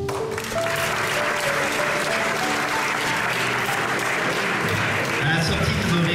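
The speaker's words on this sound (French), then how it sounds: "Et on peut les applaudir." Audience at a concert in Vic-la-Gardiole applauds a choir, a dense, steady wash of clapping close by that carries on for several seconds, with voices faintly mixed in.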